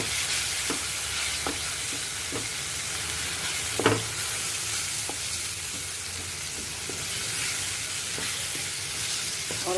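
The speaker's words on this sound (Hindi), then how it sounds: "चाट मसाला, भुना जीरा पाउडर, गरम मसाला मिक्स करेंगे अच्छे से।" Chaat masala, roasted cumin powder and garam masala stirred with cabbage frying in a pan, a steady sizzling hiss with occasional light scrapes and one louder clink, no one speaking.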